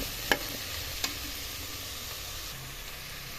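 Tomato fries in a pan with a steady close sizzle and hiss. Two sharp clicks of a stirring utensil come early.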